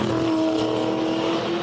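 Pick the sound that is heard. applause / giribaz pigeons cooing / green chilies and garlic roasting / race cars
race cars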